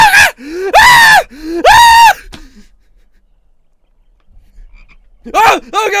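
Frog croaking loudly and close in The Screaming Skull: three drawn-out, throaty croaks in quick succession, a quiet pause, then another burst of croaks.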